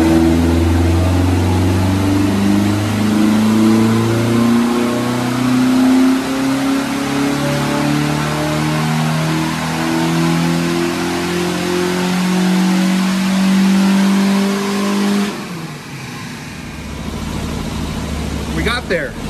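A tuned 1968 BMW 2002 four-cylinder with MoTeC M8 management revs hard on a dyno, its engine note climbing loud and steady for about fifteen seconds before cutting off, leaving a quieter lower hum and faint clatter.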